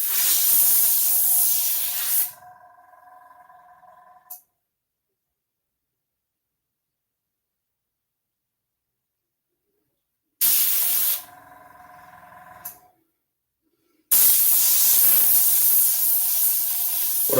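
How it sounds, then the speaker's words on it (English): A poorly working airbrush gives short bursts of close, sharp hiss, some sputtering and uneven, broken up by long stretches of silence, with no talking. "I don't think this airbrush is going to work"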